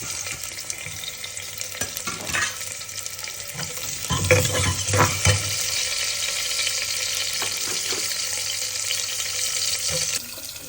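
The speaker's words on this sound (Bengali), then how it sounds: "এই যে তেল দিয়েছি, একটা তেজপাতা পেঁয়াজ দিচ্ছি এখন।" A bay leaf and onion frying in oil for a beef dish, a steady bright sizzle throughout, broken midway by louder stirring and clatter as the onion goes in.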